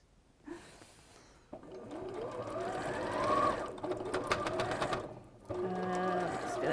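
A sewing machine stitches in short bursts at a quilting block, its motor whirring and needle clattering up and down, stopping briefly before starting again, with a quiet voice and breathing audible nearby.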